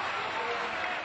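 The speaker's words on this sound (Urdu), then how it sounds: "بجا دیجیے خوب تالیاں" Audience applause at a poetry gathering for Lata Haya, a dense, continuous burst of clapping throughout the brief moment.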